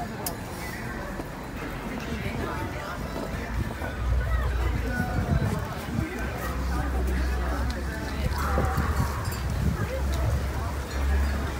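Horse-drawn carriages clip-clop through a Christmas market square in Bolzano, with steady hoof beats amid crowd babble and a voice talking over the scene throughout.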